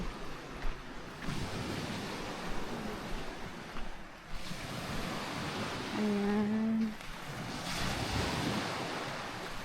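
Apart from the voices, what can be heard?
sea waves on a rainy, windy beach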